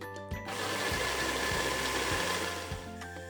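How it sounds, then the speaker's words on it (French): A blender runs continuously, blending hot caramelized coconut with pistachio into a praline purée. Its steady motor whir has a rhythmic knock as the thick mixture churns, loud and close, with no talk. "Il faut quand même pas mal mixer pour que ça devienne une purée."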